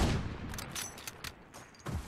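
Gunfire during a competitive video game match at a bomb site, several sharp separate shots cracking out over about two seconds against quiet game ambience.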